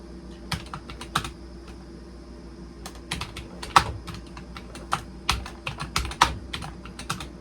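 Sharp clacking keys on a vintage Vendex Headstart Turbo 888 XT computer keyboard typed in uneven bursts, nearby and clear over a faint background hum, with no one speaking.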